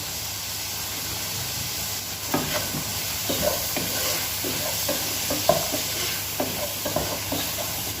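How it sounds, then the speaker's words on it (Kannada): Ground masala base for restaurant-style paneer masala sizzling in a pan, with a steady soft hiss under repeated scraping stirs that grow busier after the first couple of seconds; close and fairly quiet. "ಚೆನ್ನಾಗಿ ಫ್ರೈ ಮಾಡ್ಕೋಬೇಕು ಉಪ್ಪು ಸೇರಿಸ್ಕೊತಿದ್ದೇನೆ"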